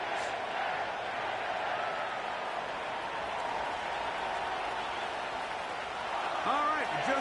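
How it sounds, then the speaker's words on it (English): Stadium crowd in an EA Sports football video game at M&T Bank Stadium in Baltimore, home of the Ravens, a steady distant roar of spectators with a few faint whistle-like sweeps near the end. "The crowd is definitely ready."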